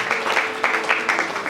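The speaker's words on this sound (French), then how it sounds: "Acclame encore pour le Seigneur" A congregation applauding during a French-language church service, a dense wash of clapping with slight surges throughout, moderately loud and steady, no clear voice over it.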